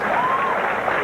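A bowling crowd at a tournament shouting and cheering, a broad wash of cheers and applause with a voice talking over it.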